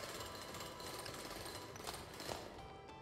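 Continuous mechanical drilling in the video game Drill Core, a steady buzzing grind with faint rattling, fairly quiet and even throughout with no talk over it.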